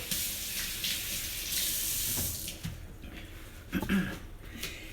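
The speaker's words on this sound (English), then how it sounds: "let me just rinse off my hands real quick" Hands rinsed under a running kitchen tap, a steady close splash of water that cuts off partway, followed by a few faint knocks and handling noises.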